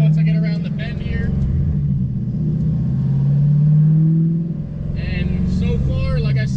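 A car that had been misfiring is driven hard around a bend, its engine producing a steady, loud rumbling drone that swells and fades slightly, with a person talking over it throughout.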